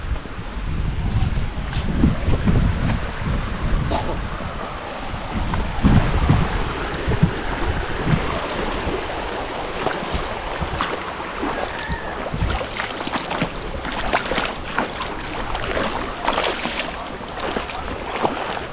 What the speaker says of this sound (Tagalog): Dito na kami sa ilog.